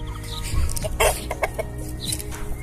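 Backyard hens cluck and squawk close by in a few short irregular bursts, with a steady low rumble underneath.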